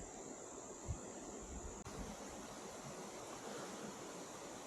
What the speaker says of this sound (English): Now it just flows along the trout stream.